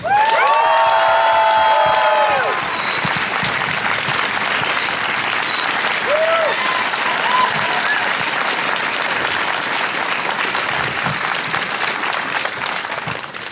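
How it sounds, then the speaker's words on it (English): Applause and cheering from a crowd at a trans rights justice event in Canberra, loud and sustained throughout, with whoops and shouts rising over the dense clapping early on before it settles into steady applause. "Can we get another quick round of applause for Izzy?"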